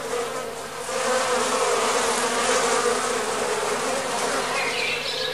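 Flies drawn to a stinkhorn fungus buzz close and loud in a dense, continuous drone that swells slightly after the first second and holds steady.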